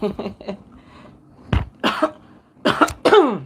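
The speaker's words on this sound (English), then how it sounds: "I need to cough." Several sharp coughs in close succession, loud and near, with brief pauses between bursts and no talking.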